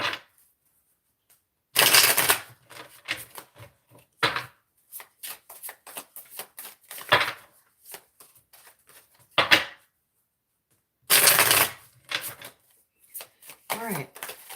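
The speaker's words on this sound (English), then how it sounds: "Okay, I think that's all I need to shuffle. Yep, one more shuffle." Tarot cards are shuffled up close in repeated bursts: loud riffles, brisk slapping and tapping of the deck, separated by short silent pauses.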